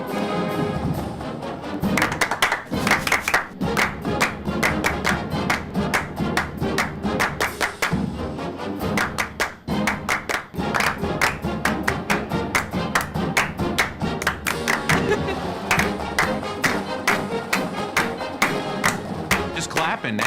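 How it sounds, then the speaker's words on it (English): Steady, rhythmic hand claps repeat throughout over busy background noise, dense and fairly loud, with occasional thumps mixed in. "Just clapping now."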